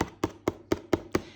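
Six evenly spaced dull knocks on a very thick, stiff adult coloring page, close and firm, each with a short resonant thud.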